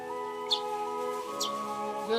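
A hungry baby house sparrow gives a few short, sharp chirps close by, set against a steady tonal backing sound, with no talk.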